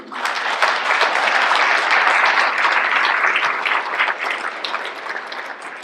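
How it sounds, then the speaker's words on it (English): An audience at a Scouts council annual recognition dinner applauds the professional staff, a broad wash of many hands clapping that swells quickly and holds steady before tapering slightly near the end. "Round of applause for all our professional staff who worked real hard to get this together tonight."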